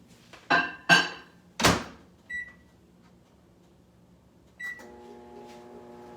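Several sharp thunks of a door and buttons, a couple of short beeps, then a microwave oven starts up with a steady low hum.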